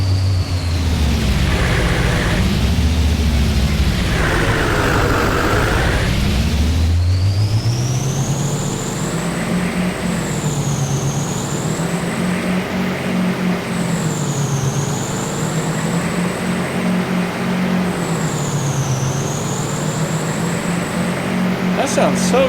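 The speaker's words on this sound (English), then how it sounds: "sounds so good for a truck and farming simulator." A deep diesel truck engine in Farming Simulator 25 rumbles and revs steadily, heard from outside, its pitch rising and falling with gear changes, loud and continuous with a high whine above.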